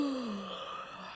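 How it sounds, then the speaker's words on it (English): Woman's yawn, pitched slightly higher, rising then gliding downward in one drawn-out breathy tone, close and fairly loud, fading toward the end. "We've got her yawn."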